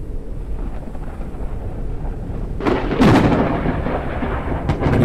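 Thunderstorm in the survival video game Forever Skies: a low rumbling background breaks into a loud close thunderclap that cracks and then rolls on, with a fainter crackle near the end.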